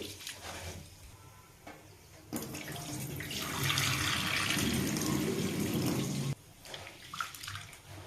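Matta rice being washed by hand in warm water: a quiet swishing and rushing of water that swells for a few seconds in the middle and then drops away, with softer sloshing before and after.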